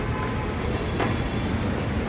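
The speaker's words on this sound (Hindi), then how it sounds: "मैं मेट्रो स्टेशन के अंदर एंटर कर रहा हूं" A train rumbles inside a Delhi metro station, giving a steady low roar with a brief brighter swell near the middle. No one speaks.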